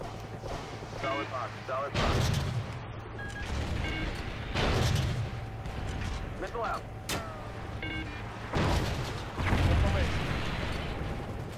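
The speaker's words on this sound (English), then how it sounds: "Missile loose." Missile launches in the Call of Duty Ghosts campaign on Xbox 360, several heavy whooshing roars rising every few seconds over a constant engine drone, with radio chatter and electronic beeps in between.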